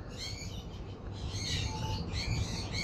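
Lovebirds at a breeding farm chirp repeatedly in short, bright overlapping bursts over a low, busy background hum. No one speaks.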